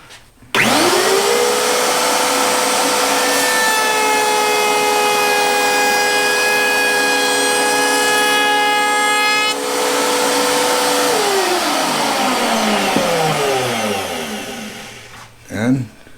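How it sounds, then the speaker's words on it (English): A router table cuts a chamfer along the side of a wooden board, a loud steady motor whine that rises as the bit spins up, holds an even tone through the cut, then winds down, ending with a brief knock. "And just like that, we have cut a chamfer on the side of the board."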